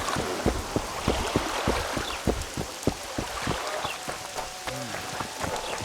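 Steady rain falls in The Witcher 2 video game, a dense hiss of drops with irregular heavier splashes and patters close by, no talking over it.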